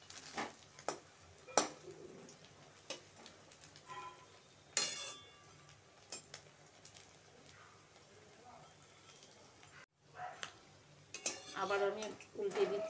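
Bread slices fry in a pan and get flipped, with clinks of a utensil against the pan and faint sizzling while a voice talks intermittently.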